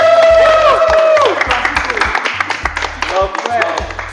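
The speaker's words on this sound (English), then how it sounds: "We want to cheer for them now, it's not easy." A game-show studio audience claps and cheers loudly in scattered bursts, with whoops and a tonal musical sting at the start, bodies of applause rising and falling over about four seconds.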